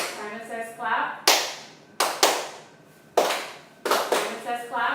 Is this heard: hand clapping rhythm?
yes